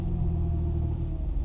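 A 2012 Infiniti G25 with stock exhaust and 148,000 miles rumbles steadily at close range. The low engine drone holds an even level with no talking.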